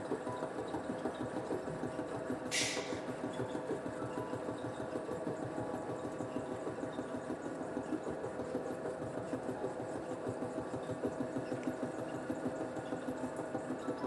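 A lathe on a turning cut, reducing a workpiece's diameter, hums steadily and quietly with a faint mechanical whir and a single brief click partway through.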